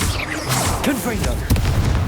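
Confringo blast spell explosions in the video game Hogwarts Legacy, a quick series of booming bursts and pops close up, mixed with game noise and what may be a voice.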